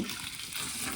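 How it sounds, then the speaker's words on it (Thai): A brief, steady stream of hot water pouring and splashing onto sticky rice, close by and soft. "เทน้ำร้อน"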